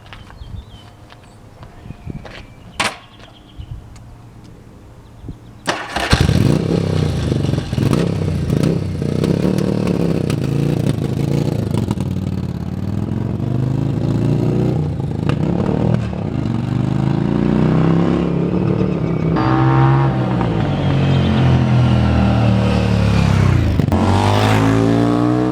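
A 1984 Yamaha XV700 Virago, a barn-find parts bike fitted with a new battery and fresh gas, fires up after a few seconds of quiet clicks and then idles with a loud, throbbing engine note, revving up several times close by.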